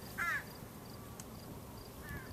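A crow caws once, fairly distant, then a second softer caw follows near the end, over a faint steady outdoor hiss with no talking.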